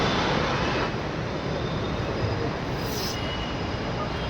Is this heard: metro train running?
yes